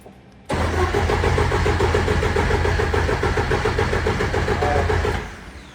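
A tuned car engine cranks and catches, then runs loud and steady at a rough idle for several seconds before cutting out and fading near the end.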